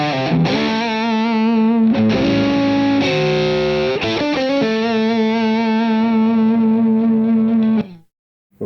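Distorted electric guitar with P90 pickups, on an in-between pickup setting, rings out loud and sustained, with a brief choppy passage midway, then a held chord that cuts off abruptly near the end.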